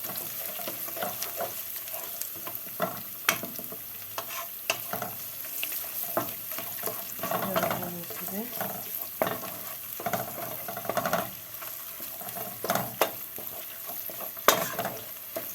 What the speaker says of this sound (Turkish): Şöyle bir yemek kaşığı da domates salçası ekleyip güzelce karıştırıyorum.